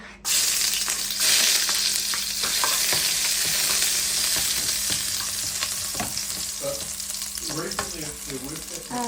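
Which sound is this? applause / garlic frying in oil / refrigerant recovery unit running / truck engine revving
garlic frying in oil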